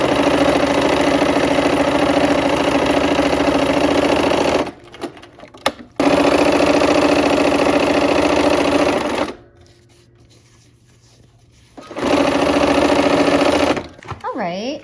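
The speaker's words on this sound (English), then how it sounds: "So let's go ahead and sew" A sewing machine stitches the last seam of a quilt block in loud, steady runs of rapid mechanical whirring, stopping twice for short pauses with handling noise before starting again, then a final short burst.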